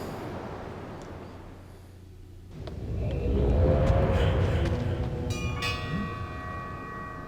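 Bell in Myst III: Exile, a metallic ring standing out over a low rumble and swelling ambient noise, its bright tones trailing off late in the passage.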